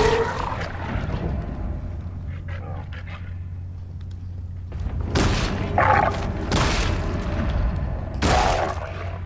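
Gunfire in the horror video game Scorn: several loud broadband bangs, one at about five seconds and more clustered near six and eight seconds, over a low steady game hum.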